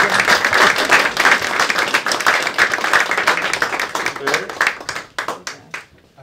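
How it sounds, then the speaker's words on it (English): A conference audience gives a warm, sustained round of applause, many hands clapping densely before thinning into scattered final claps as it fades out. "A warm round of applause, Marc Marot."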